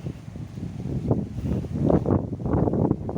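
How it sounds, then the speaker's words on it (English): Gusty outdoor wind buffets and rumbles across the microphone in uneven low surges that swell louder toward the end, with no other distinct sound. "Oh, it's windy."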